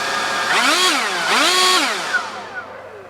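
Leaf blower revving with its turbo engaged by the throttle, two rising and falling whines in quick succession, loud and close, then easing off.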